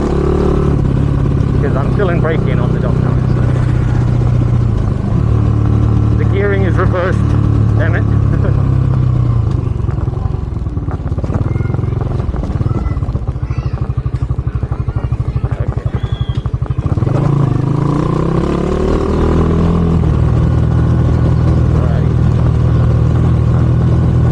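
Skygo Boss 150 motorcycle engine running at high RPM while riding, a steady droning hum with a rising and falling pitch. Continuous wind and road noise sit underneath, and a voice talks over it in places.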